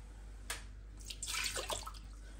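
Water splashes and pours briefly into the metal pot of an Instant Pot pressure cooker close by, a short burst of trickling and sloshing against a quiet background.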